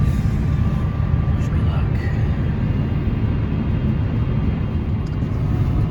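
British Airways A350 airliner on final approach to Austin's runway 18 right, heard from inside the cabin as a constant heavy engine roar and airflow rumble with faint voices underneath.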